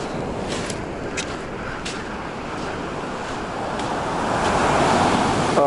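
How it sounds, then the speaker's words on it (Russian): Sea waves wash onto a beach at Alanya, Turkey, a continuous rolling surf with wind buffeting the microphone, swelling louder toward the end, with no voices. "Ай, какое море, да?"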